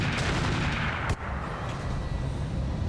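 LBX autocannon rounds firing in BattleTech, heard as a dense, steady roar of gunfire with one sharp crack about a third of the way through, loud and continuous with no voices.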